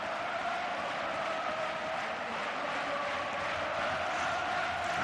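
A large football stadium crowd at a Real Zaragoza versus Espanyol match produces a steady, distant roar and murmur, a Mexican wave sweeping around the stands with no single voice standing out.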